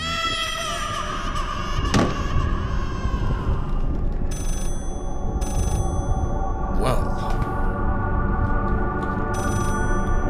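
A telephone rings repeatedly inside the horror video game Layers of Fear. The electronic trills sit over a dense, droning ambient score, with a couple of sharp hits mixed in.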